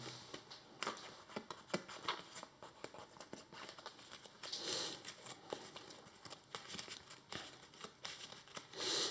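Playing cards being shuffled and handled during a tabletop game of the Marvel Champions card game, with repeated quick riffling and sharp papery snaps close by, in bursts over quiet room noise.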